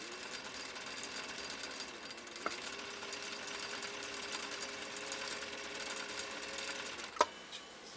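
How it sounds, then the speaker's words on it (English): A sewing machine runs in reverse with a quiet, even whirring hum and a faint metallic edge, broken by a couple of sharp clicks. "And now we're going to sew in reverse, or try to sew in reverse."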